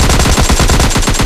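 An AKM rifle in the video game PUBG Mobile Lite fires a rapid, loud, close burst of full-auto shots in an even rhythm, with no talk.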